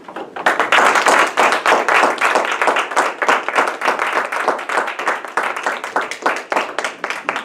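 An audience claps steadily to welcome a speaker at a speaking event, with dense, loud applause filling the room for several seconds and a few voices mixed in.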